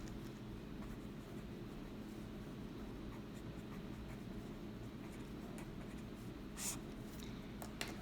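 Pen or marker scratching steadily while writing out a polynomial long division step, a continuous faint scrape over a low background hum, with no talking.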